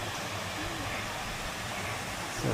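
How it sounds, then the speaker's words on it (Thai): A small waterfall at Wat Pha Lat temple in Chiang Mai, a steady broadband rush of falling water filling the space evenly and fairly loud throughout, with no talk over it. "มีน้ำตกเล็ก ๆ ไว้ให้ดูด้วยนะฮะ"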